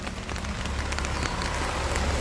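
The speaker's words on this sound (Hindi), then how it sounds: "और बारिश हो रही है" Rain falls steadily in an apple orchard in a mountain valley, a dense, even hiss of drops on leaves and surfaces throughout, with no voices.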